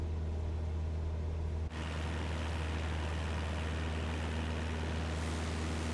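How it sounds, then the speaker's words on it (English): A Cessna 172 engine drones steadily in the flight simulation game Microsoft Flight Simulator 2024, a constant low propeller hum with broad rushing noise, briefly dipping once before carrying on unchanged. "Ty doesn't like the sound of a Cessna 172 engine"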